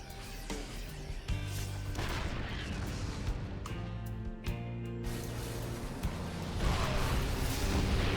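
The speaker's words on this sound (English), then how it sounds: "ByuN will get some tank shots off." Siege tank cannon shots in a StarCraft 2 Terran-versus-Terran battle, heavy booming blasts repeating over a dense, continuous din of gunfire and combat effects.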